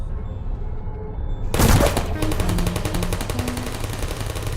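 Automated turrets in Portal RTX fire a rapid, sustained machine-gun burst that starts abruptly and keeps rattling at an even fast rhythm, loud and close, with a faint voice in the background.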